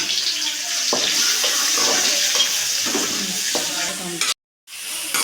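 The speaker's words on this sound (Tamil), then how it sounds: "நாம் கட் பண்ணி வச்ச பெரிய வெங்காயங்க அது கொஞ்சம் நல்லா வணங்கிட்டுங்க" Chopped onions and dried red chillies sauté in oil in a pan, a continuous close sizzle with spoon scrapes at intervals and a brief gap near the end.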